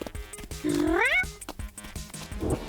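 A single drawn-out cat meow rising and falling, fairly close, with faint background noise and a soft rustle near the end.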